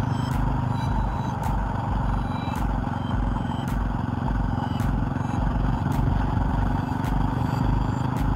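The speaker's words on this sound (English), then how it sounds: "I don't know if you guys can hear the chain slapping right now." Slack drive chain on a KTM 450 EXC supermoto slapping and clattering while riding, a steady engine rumble with repeated sharp metallic ticks at a regular rhythm, loud and close.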